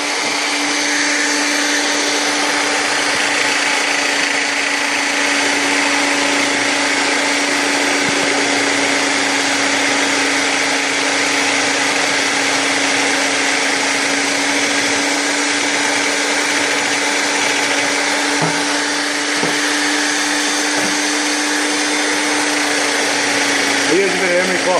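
A float blank spins on a power tool while emery cloth shapes it, giving a loud, steady high-pitched whine with a constant hum that carries unbroken from start to finish.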